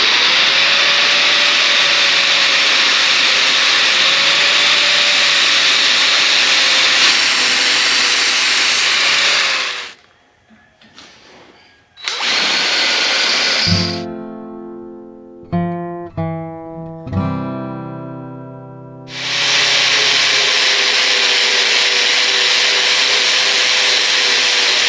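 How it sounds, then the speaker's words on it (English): A bandsaw cuts a rough shape from a workpiece in a farm or garden shop, a loud steady broadband whine and rasp running for about ten seconds, breaking off, then returning after a stretch of quieter clattering tonal sounds. "I can cut out the rough shape with the bandsaw"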